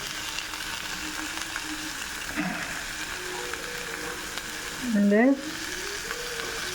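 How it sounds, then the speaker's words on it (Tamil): Green chillies and tender young jackfruit sauté in a pan with a steady, close sizzle and stirring throughout, while a voice briefly speaks a single word. "லேசாக வதக்கினா போதும்"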